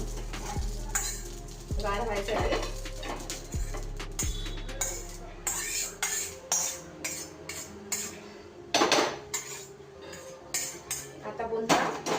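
Whole black cardamom pods roasting in oil in a pan while garam masala is prepared, with a steady sizzle, stirring scrapes and clinks of a spoon against the pot, plus a few sharp knocks early on.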